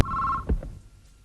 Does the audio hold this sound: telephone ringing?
yes